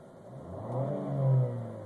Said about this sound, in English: put it in the park, and just rev it a little bit